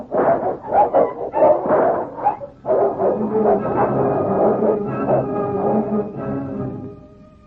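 A huge Irish wolfhound fights alongside another dog in the Yukon, with rapid loud barks, yelps and growls at close range in a dense, continuous scrap.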